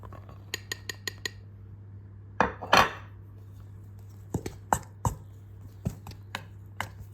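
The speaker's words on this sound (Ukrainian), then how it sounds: "Сухі інгредієнти перемішую з маслом та яйцем." A spoon clinks and scrapes in a mixing bowl as dry ingredients are worked together with butter and egg for a Victoria sponge cake batter. There are scattered, light, close taps with short pauses, and nobody speaks.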